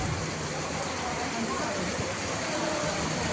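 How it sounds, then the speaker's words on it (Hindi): Heavy monsoon rain in a hill market area, a dense, steady roar of downpour filling the whole stretch evenly and close, with no clear break. "बारिश हो रही है बहुत ज़्यादा"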